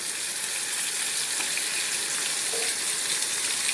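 Brinjal and potato slices frying in a pan of oil give a steady, dense sizzle that holds even and close throughout, with no voices.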